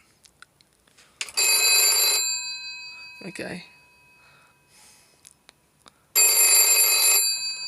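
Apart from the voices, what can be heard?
GPO 746 rotary telephone bell ringing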